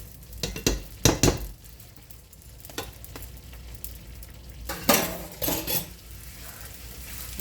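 Edible gum (gond) puffs up as it fries in hot fat, giving a crackling sizzle with bursts of loud popping and the clink of a spoon stirring the pan.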